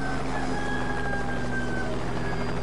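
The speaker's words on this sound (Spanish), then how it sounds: "Y el puto gallo de los cojones, que voy a hacer caldo con él" A rooster crows in Just Cause 2, a drawn-out cock-a-doodle-doo at moderate distance over a steady low hum of game ambience, with no talk.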